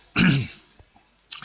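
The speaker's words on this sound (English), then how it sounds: "I'm still coughing every now and then" A single raspy cough from someone with a cold, close and fairly loud, followed by faint quiet breathing sounds and the start of another cough at the end.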